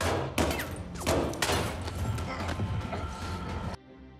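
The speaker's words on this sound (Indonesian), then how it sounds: "Setelah ledakan itu, Fury terlibat baku tembak dengan komplotan penjahat bertopeng." Gunfire rings out in a film shootout with masked criminals: several sharp, loud shots, then a dense, chaotic barrage mixed with scuffling and commotion, cutting off abruptly near the end.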